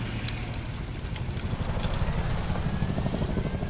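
Several helicopters spearheading a ground attack with about 200 soldiers, their steady rotor and engine drone loud and continuous throughout, no speech.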